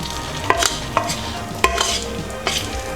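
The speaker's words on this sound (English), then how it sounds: "Now that we have it nice and bubbled up, we add the rice." Leftover rice dropped into hot bubbling oil in a pan for fried rice, a soft sizzle under several sharp metallic clinks of a utensil against the pan, spaced irregularly over a few seconds.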